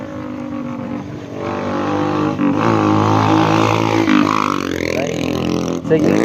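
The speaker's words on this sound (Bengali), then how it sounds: "বাইক পালসার সাইলেন্সার লাগিয়েছে।" A Bajaj Pulsar motorcycle fitted with an aftermarket silencer passes on a bridge with a loud, throaty engine drone that rises and shifts in pitch as it goes by, close and dominant throughout.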